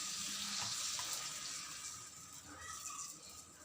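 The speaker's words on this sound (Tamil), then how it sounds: "நம்ம தோசைக்கல்லில் எப்படி ஊற்றி தோசை சுடுறோமோ அதே மாதிரி தாங்க" Thin maida batter sizzling on a hot dosa griddle for a chicken roll, a soft continuous hiss and crackle heard quietly and steadily at close range.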